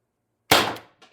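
A single sharp pop from an Umarex TR50 CO2 air gun firing a 12.7mm steel ball, a loud close burst that decays over a fraction of a second, followed by a faint second tap.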